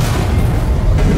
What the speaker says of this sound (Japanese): 爆発してどっか行っちゃった